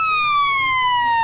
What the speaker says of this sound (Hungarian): Motoros mentő érkezik a baleseti szimulációhoz.